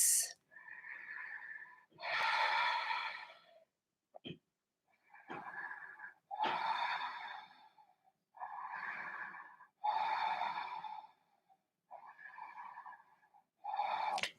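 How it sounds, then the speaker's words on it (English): Deep, strong breaths during a vinyasa yoga flow, heard up close as a slow series of loud, even inhales and exhales, about eight breath cycles separated by brief pauses. "Really deep, strong, even breaths."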